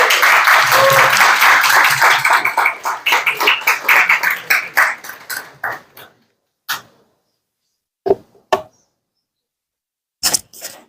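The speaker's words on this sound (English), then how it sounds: "Please give him a warm round of applause." Audience applause welcoming a performer, a dense burst of clapping that thins into scattered individual claps and trails off, with a few isolated claps later.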